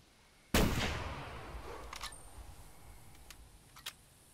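Single sharp rifle shot while hunting a hog in The Hunter Classic video game, a loud sudden crack with a long fading echo, followed by a few faint clicks.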